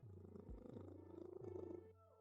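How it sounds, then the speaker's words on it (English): Loud, close purring from a pet male cat pulses in steady breath cycles, a continuous rumble that eases off near the end, with nobody speaking. "He's purring so loud."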